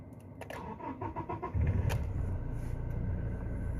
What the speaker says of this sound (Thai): เราก็จะติดเครื่องดูนะครับ ว่าไฟที่โชว์จะหายไหม